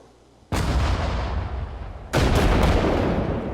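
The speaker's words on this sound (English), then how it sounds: "we're just going to try to use howitzers to take out this position" Two heavy howitzer blasts in the World War II strategy game Sudden Strike 4, each a sudden loud boom followed by a long rumbling roar, the second landing about a second and a half after the first.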